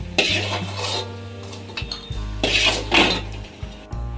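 Golden-fried cashews are scooped from a frying pan with a metal spoon, giving several scraping, clinking strokes against the pan over a low background hum, with no talk.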